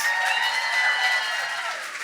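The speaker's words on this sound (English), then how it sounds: "Give yourselves a round of applause for making it out to the show." A live show audience cheers and applauds in a dense, continuous wash of clapping and voices that fades slightly toward the end.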